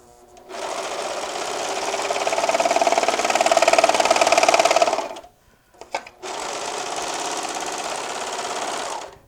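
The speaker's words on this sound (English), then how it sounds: "I like using a serger" A serger sewing machine stitches apron fabric in a loud, fast, even whir that runs about four and a half seconds, stops with a brief clatter, then starts again for another three seconds.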